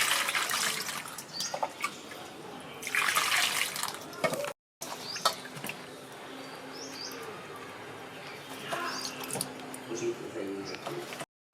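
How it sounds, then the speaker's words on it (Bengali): Tomatoes are rinsed under a running kitchen tap, with water splashing and gushing in loud bursts, briefly cutting out, then resuming with softer trickles and drips. "চলুন আগে টমেটোগুলো ভালো করে ধুয়ে নিচ্ছি"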